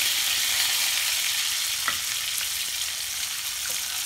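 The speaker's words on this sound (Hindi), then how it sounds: "एबे मु अंडा को ऐड कर देउछि" Eggs frying in hot oil for an Odia-style egg curry give a steady, bright sizzle with a few faint clicks and spatters, and no voices.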